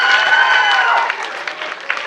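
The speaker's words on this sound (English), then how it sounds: "Give a round of applause." Applause from a crowd at a school Writers Week poetry reading, dense and steady, then thinning into scattered claps toward the end, with some voices mixed in.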